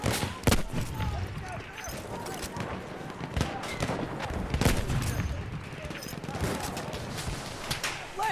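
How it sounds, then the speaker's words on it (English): Machine gun fire crackles in Battlefield 1 multiplayer, with repeated gunshot bursts and heavy impacts scattered over a busy battlefield din while a player talks throughout. "Enemy machine gun sighted."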